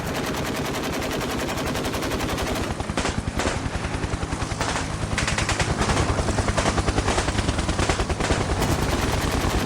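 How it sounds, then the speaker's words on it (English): Rapid machine-gun bursts and gunshots from an army shooter video game, with a helicopter in the mix; dense, continuous loud firing throughout with no talking. "No helicopter, not helicopter again."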